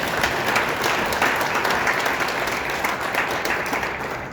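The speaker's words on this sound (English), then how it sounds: "Let's give her a round of applause." Steady, dense applause from an audience at an annual general meeting, filling the room evenly for several seconds with no voices over it.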